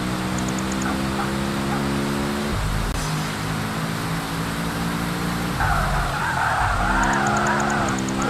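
A race car sliding sideways through corners in the racing game PGR 2001, with a steady revving engine whose pitch climbs and drops between gear changes and squealing tires during the slides, loud and continuous throughout.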